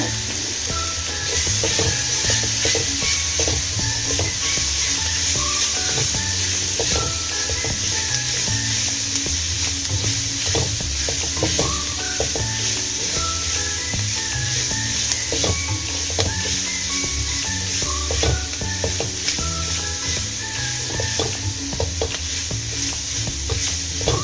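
Tempering for poha fries in oil in a pan, a loud continuous sizzle and crackle with frequent stirring scrapes and clicks running throughout.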